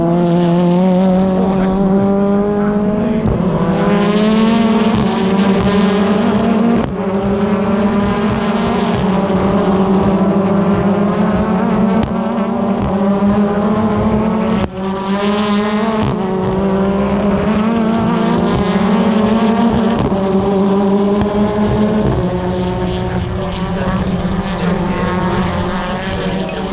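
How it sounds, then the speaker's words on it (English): BTCC touring cars racing at Snetterton in 2021 Race 3, heard from onboard: a loud, close engine roaring continuously at high revs, with pitch rising and dipping through gear changes and a faint voice under it. "he's now looking to make a move on the back of Rory Butcher, because he falls almost alongside as they head under the bridge in a couple of seconds"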